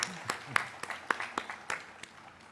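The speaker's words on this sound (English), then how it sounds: "Let's give her a round of applause" A few scattered, faint hand claps ring out one by one in an audience at a College of Engineering commencement ceremony, sparse and uneven against a quiet room.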